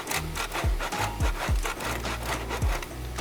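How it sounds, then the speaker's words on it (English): Mozzarella being grated by hand against a grater, a series of rough rasping strokes repeating at an uneven rhythm, close and fairly loud with no talking. "I'm going to grate my mozzarella now"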